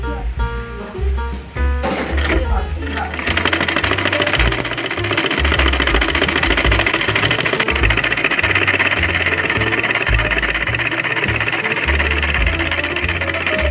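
A sewing machine stitches the pleats of a child's umbrella frock, running in a steady continuous mechanical whir with a dense rhythmic rattle. It stays close and loud throughout, after a brief uneven start.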